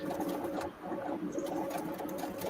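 A sewing machine runs steadily, stitching through super thick bonded polyester fabric, a continuous close mechanical whir with a brief dip partway through.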